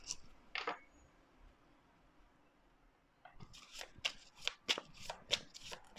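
Tarot cards are shuffled and drawn at close range: a couple of soft card flicks at first, a pause, then a quick run of crisp, rhythmic riffling snaps.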